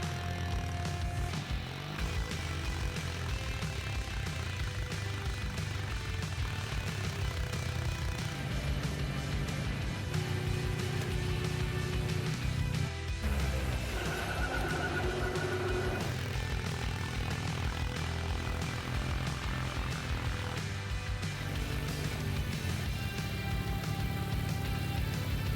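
A buggy tank fitted with a snow bucket ploughs through deep snowdrifts in PUBG, its engine droning steadily and loudly throughout with a low rumbling drive, shifting slightly midway, with no talking.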